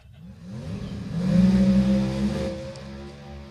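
A Pro Modified drag racing car roars past on a qualifying run as its tires smoke, a loud engine drone swelling to a peak midway and then fading slightly as it moves away.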